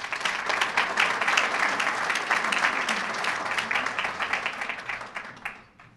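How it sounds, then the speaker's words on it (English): An audience at a college gathering breaks into steady applause, many hands clapping in a full, even roar that fades out near the end. "they deserve a round of applause"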